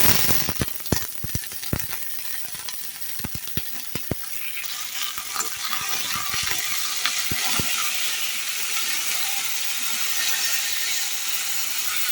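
Steady sizzling of chopped okra frying in a pan, with sharp crackles and pops early on settling into a continuous hiss.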